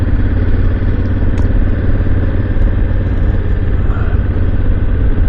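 A Honda Africa Twin motorcycle engine fitted with a spark arrestor, running with a loud, steady low throb and mechanical clatter throughout on a Colorado mountain pass, with no voices.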